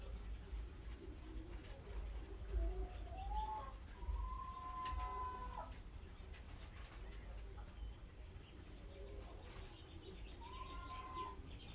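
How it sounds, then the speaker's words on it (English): Pigeons cooing softly in the background, a few rising and falling coos with faint chirps and a brief flutter of wings over low ambient hum. "Maybe you can hear the pigeons in the background."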